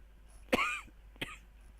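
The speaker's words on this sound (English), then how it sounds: "I'm not feeling well, so please manage with my cough as well." Two coughs from a man who is feeling unwell, a strong sharp cough followed a moment later by a shorter, weaker one, close to the microphone in an otherwise quiet room.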